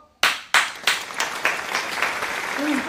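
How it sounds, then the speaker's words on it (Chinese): A classroom of students starts to clap, first with a few sharp, separate claps. These quickly build into steady, moderately loud applause, with some talking mixed in. "给我鼓掌吧"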